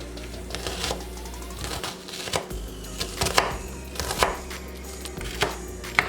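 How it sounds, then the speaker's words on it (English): A knife chops through a section of onion on a cutting board, irregular sharp close taps in a loose rhythm over a low steady background hum, no talking. "I'm going to chop just a section of this onion"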